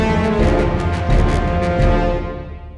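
An orchestral theme from The Lord of the Rings plays as a dense, loud full-orchestra swell with repeated accented hits, tapering off toward the end.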